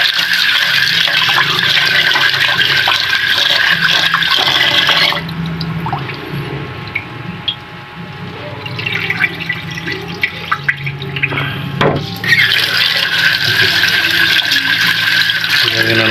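Kitchen tap running while dishes are washed up: a loud, steady rush of water that cuts out for several seconds, with small clinks and shuffling, then gushes again.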